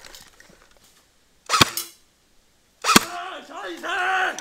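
A CM.033 M1A1 Thompson airsoft gun fires two sharp, separate single shots about a second and a half apart, close and loud. Brief voices and a short exclamation come after the second shot.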